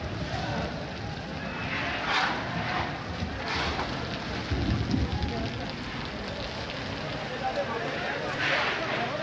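Unseasonal rain falls on the shed of the Hingoli agricultural produce market yard, where turmeric brought for sale has got soaked. It makes a steady, dense patter with a few louder bursts and a low rumble partway through.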